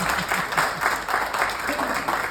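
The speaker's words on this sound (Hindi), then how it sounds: "जोरदार तालियां" Applause from a theatre audience honouring a senior drama cast member, loud rhythmic clapping close by that pulses in unison across the whole stretch.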